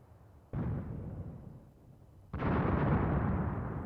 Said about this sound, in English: Okay, artillery's starting to fall. Soviet artillery again coming in on the victory point back here at the village.